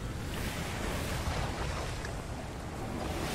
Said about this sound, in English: We're just sailing around the island.